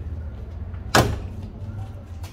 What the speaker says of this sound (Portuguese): Olha a somzinho de porta também, ó.